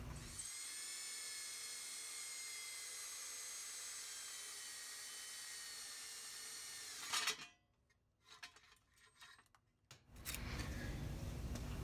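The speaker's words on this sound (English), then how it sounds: "Let's drill" A high, whining power drill runs steadily for about seven seconds drilling out a metal knockout, cuts out into a few clanks and scrapes, then spins up loudly again.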